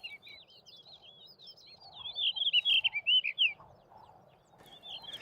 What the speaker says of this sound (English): the blue rock thrush